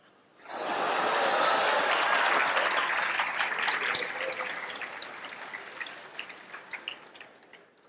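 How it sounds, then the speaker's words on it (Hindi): An audience at a motivational session at a coaching institute in Kota bursts into dense, loud applause that swells quickly, holds, then gradually thins out into scattered claps. "ताली उम्र के लिए बजा रहे हो कि मौज मस्ती के लिए बजा रहे हो?"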